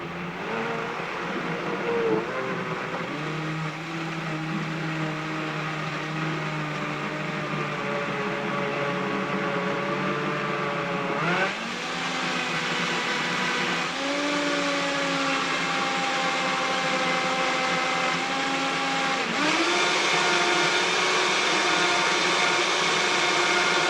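A kitchen blender chops and purees a green smoothie, its motor whining loudly and steadily, with the pitch rising and shifting in a few steps as the speed changes and the contents break down; no speech.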